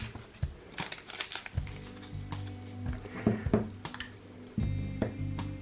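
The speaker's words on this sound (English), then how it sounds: "I will tape it here over the BB unit, and I need to do it pretty tightly" Tape being pulled and pressed tightly over the BB unit of a Tokyo Marui P226-style airsoft pistol during an HPA conversion, with crinkling, tearing and tapping bursts, some sharp clicks, and a low hum underneath.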